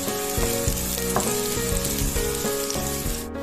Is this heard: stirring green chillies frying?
yes